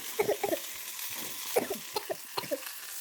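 Dried red chillies fry with panch phoron in a pan, giving a soft sizzle broken by quick, close clinks and scrapes of stirring in short clusters.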